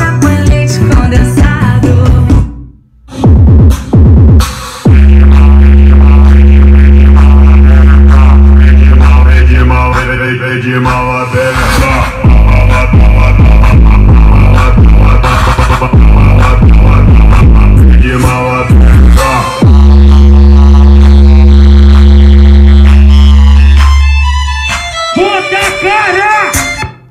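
A custom-built home speaker box plays music at high volume, with deep booming bass and full-band beats that pause briefly and resume, loud and close throughout.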